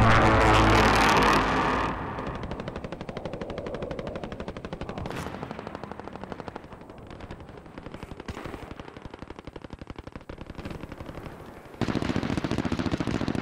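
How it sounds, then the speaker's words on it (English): Rapid bursts of automatic gunfire in the video game Warzone crackle in dense rhythmic volleys, loud at first then continuing slightly more distant, with a few louder blasts. "Oh my god, there's so many gunshots, so many people."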